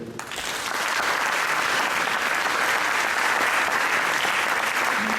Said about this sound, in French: on peut tous l'applaudir